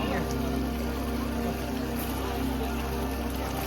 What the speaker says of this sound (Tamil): தண்ணி எவ்வளோ அழகா போகுது.